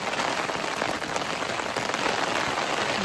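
Heavy rain pouring down with wind, a dense, steady hiss of drops hitting surfaces, loud and unbroken throughout with no voices.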